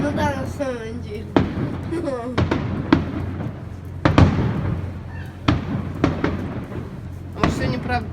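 Fireworks salute bursts crack and thump repeatedly at irregular intervals, fairly close, over a continuous background rumble, while people talk and exclaim throughout.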